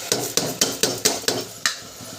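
Soaked rice goes into a pressure cooker in quick scoops: about eight close, evenly spaced metallic clinks and soft thuds in a steady rhythm, loud and alone.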